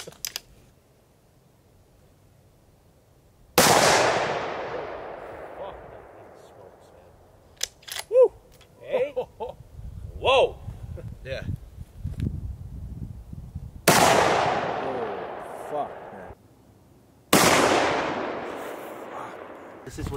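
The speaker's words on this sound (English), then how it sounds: "this is what a shotgun does." Three heavy shotgun blasts ring out outdoors at a shooting outing, each a sharp loud crack with a long fading tail, spaced several seconds apart, with people talking and shuffling between shots.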